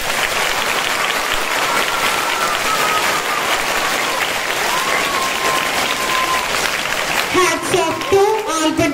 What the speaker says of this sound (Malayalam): ഇത്ര കയ്യടി പോരാതിന്.